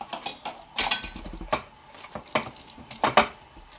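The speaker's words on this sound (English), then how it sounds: "Just keep whisking." A whisk beats egg, flour and yogurt in a pot for kousa with yoghurt, producing quick irregular metallic clinks and scrapes against the pot's sides in close, uneven bursts.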